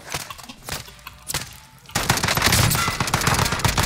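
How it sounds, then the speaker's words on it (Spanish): In Call of Duty: Modern Warfare, scattered single gunshots crack at first, then a dense, continuous burst of automatic fire takes over, loud and close with no voices. "Sígueme disparando balita por balita"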